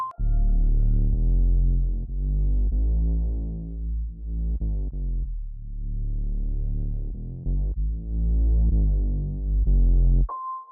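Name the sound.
sub bass line in the hook of a beat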